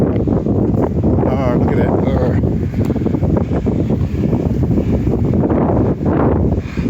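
Big gust of wind roaring through the trees in Tremayne woods near the Helford River, a loud continuous buffeting rush against the microphone while a person speaks briefly.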